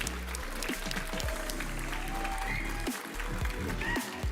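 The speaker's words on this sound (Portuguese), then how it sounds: "uma salva de palmas" Audience applause at the Zabbix Conference Latam 2023, clapping for a sponsor, a steady sustained patter mixed with a low hum and a few brief voices over about four seconds.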